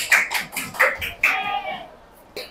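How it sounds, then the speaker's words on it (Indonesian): Classroom students give a short round of applause for a presenting group, a few sparse bursts of clapping that fade out over about two seconds. "tepuk tangan dulu sekali lagi buat kelompok 2"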